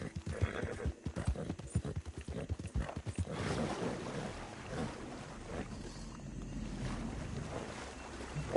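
Horse hooves clip-clop steadily in Red Dead Redemption 2, close and rhythmic for the first few seconds, then blending into a wash of ambient game sound with a faint whinny.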